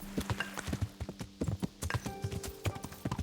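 Horse hooves clip-clop in a steady trot on a road in the video game Kingdom Come: Deliverance, with a short whinny rising near the end.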